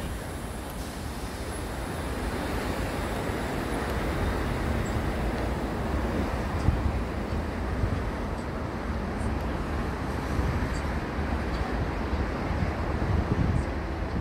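Sydney trains T90 and T103 departing platform 2 at Milsons Point station, a steady broadband rumble and wind-like roar that holds at an even level throughout, with no voices.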